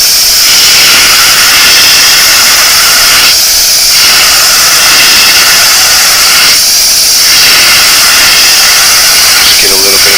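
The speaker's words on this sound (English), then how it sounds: "Just get a little bit of the overspray to go a little higher on this side, little patches." A spray gun hisses steadily and loudly as it coats a vintage 1970s bicycle frame with paint, with two short pauses in the spray and a brief lull near the end.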